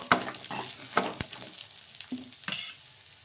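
Tamarind stirred into chutney ingredients frying in a pan, a spoon scraping in a few distinct strokes over a soft, steady sizzle, close by with no talk.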